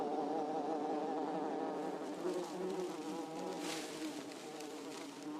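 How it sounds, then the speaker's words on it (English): Small swarm of male bees patrolling near underground burrow entrances, a continuous close buzzing hum of many wings with slight rises and falls in pitch, no other sounds. "A small swarm of males patrols the city gates."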